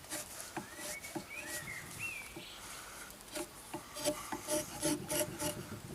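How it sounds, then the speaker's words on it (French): A wood chisel lightly scrapes and rasps along the edges of a tenon on a traditional timber-frame beam, with short rhythmic strokes up close and faint birdsong in the background. "Donc au ciseau, on vient juste entamer légèrement"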